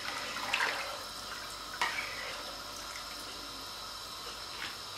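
Chicken stock is poured into a pot of soup, making a steady liquid rush and splash with a couple of louder sloshes. The sound is moderately close and heard alone.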